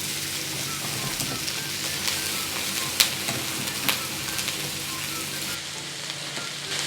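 Broccoli stir-fries in hot oil in a wok, a steady dense sizzle with scraping stirs and occasional clicks throughout.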